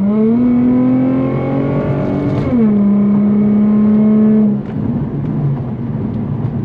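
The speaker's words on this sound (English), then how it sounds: "My favorite part of this exhaust is when you let off the acceleration" An Infiniti G35 exhaust drones loudly at a steady idle-like pitch, rises briefly in a rev, then holds before dropping off as the throttle is released.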